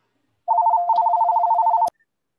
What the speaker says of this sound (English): I don't know whose phone that is, but please.